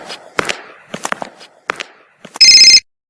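A few light taps and clicks, then one short, loud electronic telephone ring that stops abruptly.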